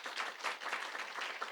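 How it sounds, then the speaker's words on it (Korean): A church congregation at a Friday prayer meeting claps together, a soft, fairly distant burst of many hands in uneven waves, with no voices over it. "박수합시다."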